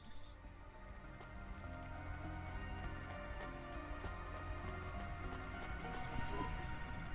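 Steady rain in the video game Cloudpunk, with a constant hiss and patter at an even level throughout and a low hum underneath, with no talking.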